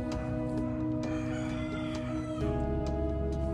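A gray gamefowl rooster, about seven months old, crows close by, one full drawn-out crow over a background of other chickens clucking and faint ambient noise.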